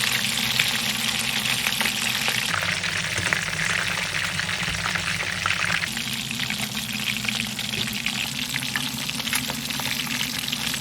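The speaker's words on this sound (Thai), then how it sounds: "ก็ทอดไปจนสุกทั้งสองด้านเลย" Catfish pieces fry in hot oil in a pan, a steady dense sizzle and crackle running loud and unbroken throughout, with no voices over it.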